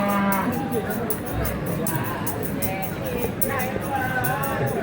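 Cattle moo repeatedly at a busy livestock market in Tuban, Indonesia, the lowing layered under a steady crowd hubbub and people talking nearby.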